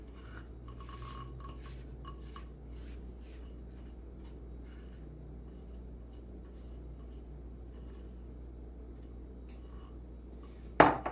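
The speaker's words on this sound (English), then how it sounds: "we're gonna mix in the wet ingredients with the dry" Wet ingredients are stirred into dry ones for a blueberry crumble: quiet, continuous rhythmic scraping of a utensil in a bowl, ending with a sharp knock.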